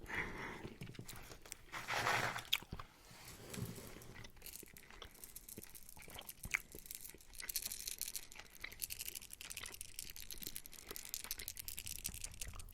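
Hard, stale jelly-bean-like candy being chewed close up, with wet crunchy chewing and crinkly bursts coming in irregular clusters, with no talking over it.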